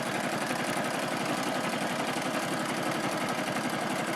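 A sewing machine runs continuously, zigzag stitching beside a seam on a bench cushion, giving a steady, even mechanical whir close to the listener with no talking.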